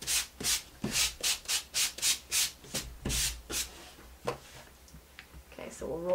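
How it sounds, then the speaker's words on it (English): Sandpaper rubbed in quick back-and-forth strokes over the raised nap of a painted fabric banner, about a dozen rhythmic scratchy passes up close, with a few softer handling sounds at the end. "If that happens, you just sand it,"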